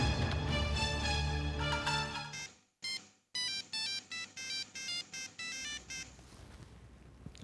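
A telephone ringtone plays alone: a sustained melodic tone, a brief gap, then a string of evenly spaced, repeating electronic ring bursts, clear and fairly close.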